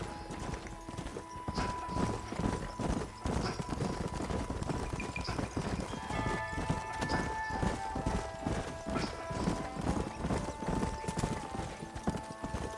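Several horses are ridden at a steady pace in the Western video game Red Dead Redemption. Their hooves clip-clop in a continuous rhythmic patter, close and even, with a brief whinny and no clear speech.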